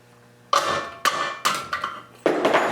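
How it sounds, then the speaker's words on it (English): A hammer strikes needle-nose pliers to pop a part off a spring on a Studebaker wheel: about five sharp, loud metallic knocks with a slight ring, unevenly spaced over a couple of seconds. "I just use some needle nose here and I hit it with a hammer."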